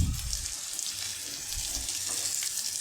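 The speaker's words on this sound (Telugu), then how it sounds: "ఇదిగోండి ఇవి ఫిష్ లాగా బాగా ఫ్రై అయిపోతాయి" Bitter gourd pieces fry in hot oil for a kakarakaya masala curry, a soft, even sizzle with faint watery crackle running close and steady throughout, no talking.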